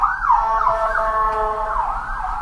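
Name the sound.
ambulance siren passing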